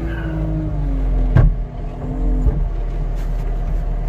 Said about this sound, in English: Let's park the skid steer here.